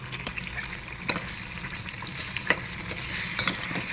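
Chili powder being stirred into a cranberry pickle, with steady scraping and mixing noises, a few sharper clinks of the spoon against the bowl, close and moderately loud, with no talking.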